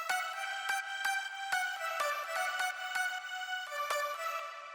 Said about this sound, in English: So we have this vocal pluck lead.